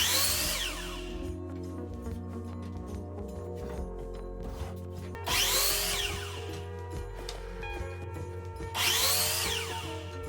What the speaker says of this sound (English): Now we need to cut these strips down to size for the trellis frame.